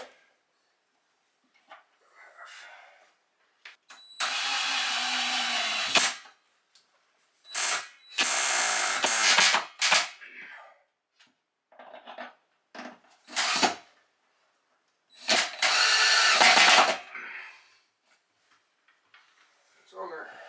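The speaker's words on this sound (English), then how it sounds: "I also needed a special drill to be able to get in here." Cordless drill working inside upper kitchen cabinets during installation: several short bursts of whirring, each lasting one to two seconds, separated by pauses with quiet handling clicks and clatter.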